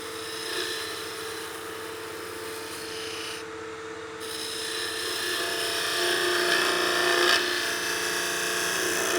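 A wood lathe cuts a bead with a beading and parting tool, making a continuous rasping scrape that grows a little louder and denser toward the end, with no talking.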